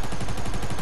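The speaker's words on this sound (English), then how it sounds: "I hit one with my mini SMG" A mini SMG in the video game Fortnite fires a continuous rapid burst, a dense rattling stream of shots that fills the short moment with no pause.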